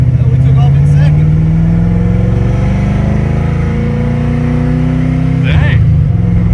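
Car fitted with ACES EFI fuel injection pulling away in second gear on a first test drive, its engine droning loudly and steadily with a rising pitch, under in-car talk.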